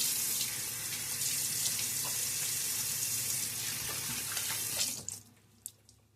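Water runs steadily from a tap into a sink, a continuous splashing rush that cuts off near the end, leaving a few faint drips and clicks.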